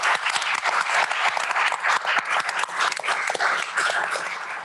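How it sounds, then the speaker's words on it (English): A conference audience breaks into a sustained round of applause, dense and steady clapping filling the room for the whole stretch, close and loud with no talk over it. "So please join me in a round of applause for those."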